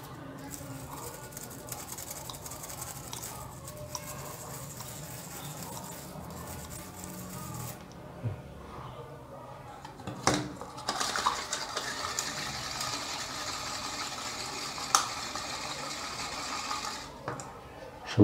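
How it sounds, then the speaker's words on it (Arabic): An old ball bearing is scrubbed with a brush to remove grease, producing close, repeated scratchy brushing with metallic clinks and a pause midway, while someone talks at times. "هنفضل ننضف بالفرشه كده البليه من ناحيتين"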